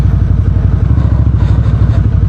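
A VOGE CU625 AMT motorcycle engine runs close and loud, a steady rumbling throb with light throttle and no talking over it.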